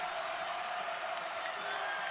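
A college basketball arena crowd roars steadily in the final minute of a tight Monmouth at Cincinnati game, a dense, sustained wash of cheering with no single voice standing out.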